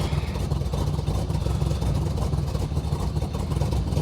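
A big cammed LT1 V8 car engine warming up with a steady, loping, choppy idle, loud and close, an exhaust leak adding to the rough, continuous throb.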